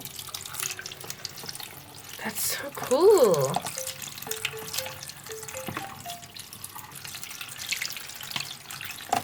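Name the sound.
water running into doll in warm water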